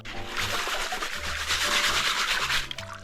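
Coarse gravel scraped and sifted in a continuous gritty rasp, close and steady, with stones rattling and faint water in the mix.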